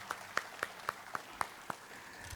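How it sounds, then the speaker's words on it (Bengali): Sparse applause at a seminar in Nayabad: about seven distinct claps spaced evenly over two seconds, faint and thin, as if only a few hands join in a quiet room. "আমি একটু হাততালি দিতে বলবো কল্লোলদার জন্যে।"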